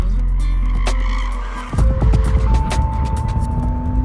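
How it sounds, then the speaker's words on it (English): A Porsche Cayman's engine drones, then tires screech and skid loudly for a few seconds as the car brakes hard in a 60-to-0 mph braking test. "for our 60 to 0 braking test, took the Cayman 106 feet to stop from 60."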